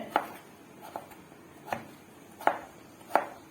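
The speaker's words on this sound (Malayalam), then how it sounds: "തൊലി ചെത്താതെ മാങ്ങ ഇത് നീളത്തിൽ അരിഞ്ഞിട്ട്" A knife chops lengthwise through unpeeled raw mango for pickle, five crisp, evenly spaced thuds against a board, close and distinct over a quiet background.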